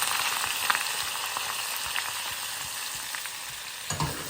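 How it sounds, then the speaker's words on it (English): Green chili and masalas frying in a hot tadka, a continuous bright sizzle with light crackling and a stir or clatter near the end, close and steady with no talking. "Add the green chili, and before it is all roasted away, add all the masalas."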